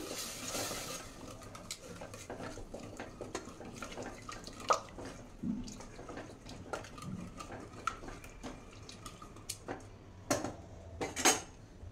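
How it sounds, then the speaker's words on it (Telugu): A spoon clinks and scrapes against a pan while chilli powder and coriander-cumin powder are mixed in for a rice dish, with soft, irregular metallic taps and stirring over a faint background and no talking. "ఇవన్నీ మిక్స్ చేసుకుందామండి"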